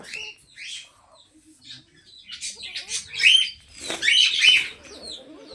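Pet birds chirping in their cage, a series of short high tweets and calls that grow busier and louder toward the end, close by and without talk.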